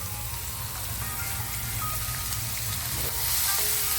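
Finely chopped onions sauté in a pan over a high flame, giving a steady, close sizzle and crackle that runs throughout with no talk.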